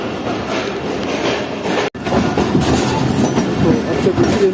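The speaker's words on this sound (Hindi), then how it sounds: "हैदराबाद स्टेशन छोड़ दिया ट्रेन ने" The Karakoram Express pulls out of Hyderabad station, its wheels clattering steadily on the rails in a loud, close, continuous rumble with a faint squeal, broken by one brief gap.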